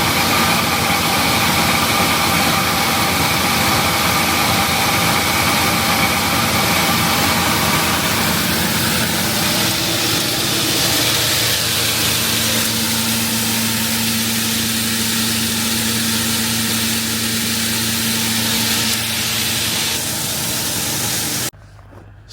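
A farm vehicle engine idles steadily and loudly up close, with a constant low rumble that shifts slightly in tone partway through and then cuts off abruptly at the very end.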